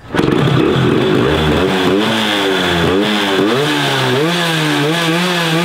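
A tiny street-legal Japanese motorcycle engine revs up and down repeatedly, a loud buzzing whine rising and falling in pitch, close by and continuous.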